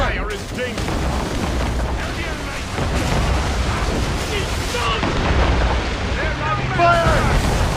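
Ship mortars fire during a naval battle in the Assassin's Creed Rogue video game, with dull booms amid constant rushing wind and sea noise and a voice speaking over it.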